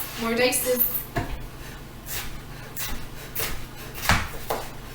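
A knife dicing potato strips on a cutting board while making a sheet pan dinner, giving a handful of sharp, irregular knocks close by over quiet room noise, with a voice briefly at the start.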